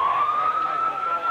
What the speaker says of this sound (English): The siren is Kenny Rathgaber's signal to make the day's first trade